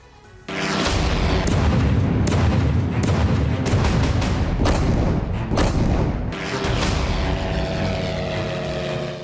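A drone attack on a Russian military truck, heard as a sustained loud roar with repeated heavy booms and thuds that cut off briefly around the middle and then resume, with no speech.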